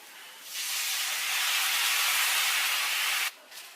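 A sudden loud hiss and sizzle as water hits a hot pan while making masala Maggi noodles, holding steady for nearly three seconds before cutting off abruptly.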